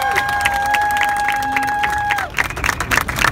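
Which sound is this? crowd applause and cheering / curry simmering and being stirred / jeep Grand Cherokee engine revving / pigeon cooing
crowd applause and cheering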